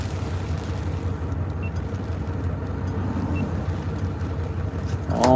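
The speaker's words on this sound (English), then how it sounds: "I'm gonna wait for these cars to pass" Cars passing on a road heard from inside a parked vehicle, a steady low rumble of tires and engines with some wind buffeting, growing louder at the end as one passes close.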